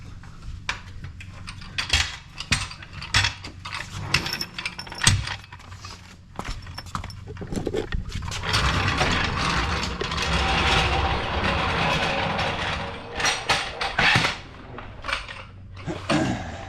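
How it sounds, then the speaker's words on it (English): A floor jack lifts a 2024 Mustang GT, with metallic clanks, rattles and ratcheting clicks in irregular bursts at close range, broken by brief pauses and scraping handling noise. "Start jacking up the other side."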